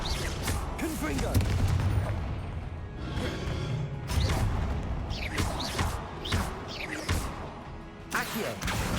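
Confringo spell blasts in Hogwarts Legacy, several sharp explosive bursts and crashes in irregular succession over a loud, busy game mix, with talk partly underneath.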